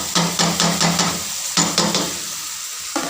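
Meat cooking in a pot with onion, tomato and spices, giving a soft sizzle broken by rhythmic scraping strokes of a stirring spoon, in short bursts with brief pauses between.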